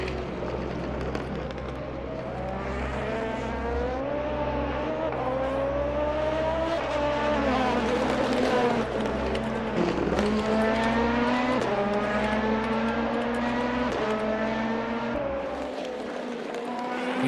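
Race cars racing at Laguna Seca, engines whining and shifting through rising and falling revs with steady, close-up motor noise throughout.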